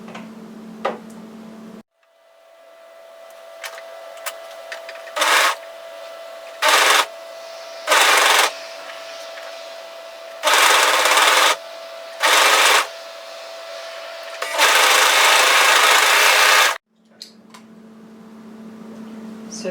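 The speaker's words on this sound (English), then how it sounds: "So all that we're going to do now is match all 3 of these raw edges, and we're going to sew that on." Sewing machine stitching a sweater seam, with several short bursts of fast mechanical stitching separated by pauses and a longer run near the end, loud and close.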